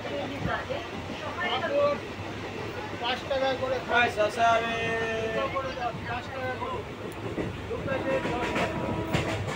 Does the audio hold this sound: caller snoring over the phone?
no